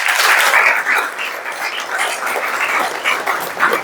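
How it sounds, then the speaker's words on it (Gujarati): An audience at a public event applauds loudly at close range, with a dense burst of clapping that sustains and fades slightly over a few seconds. "પહેલાં બેન માટે જોરદાર તાળી પાડો યાર."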